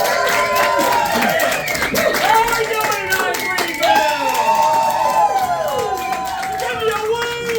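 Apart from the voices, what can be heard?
audience clapping for a performer on stage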